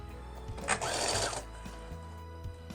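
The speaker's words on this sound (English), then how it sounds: "we're just going to sew the handle onto the bag with about a 1/4 inch seam allowance" A sewing machine stitches a handle onto a fabric tote bag in a short close burst, with its motor whirring briefly before stopping, followed by softer mechanical clicks.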